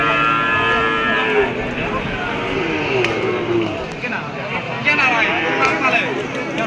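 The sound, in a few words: cow mooing at a cattle market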